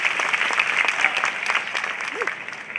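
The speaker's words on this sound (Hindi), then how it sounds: "चलो एक बार और अच्छे से ताली बजाओ।" An audience at a public ceremony in Shivpuri claps together, producing a lively, dense patter of many hands that stays strong and slowly eases off, with a voice briefly heard under it.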